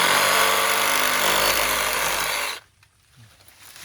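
Milwaukee M18 FUEL Hackzall cordless reciprocating saw cutting, a loud, steady buzzing drone with speed rising under harder trigger pressure, then cutting off abruptly to near quiet with faint handling noise.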